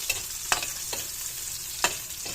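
Longganisa sausage browns in a hot pan, frying with a soft steady sizzle broken by a few sharp scraping stirs.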